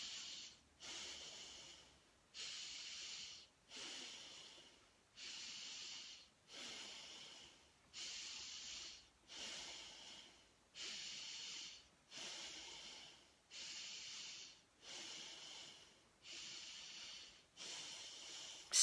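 Deep breaths drawn in and released in a slow, steady cycle, about a dozen close, airy, hissing inhales with short gaps between them, heard alone.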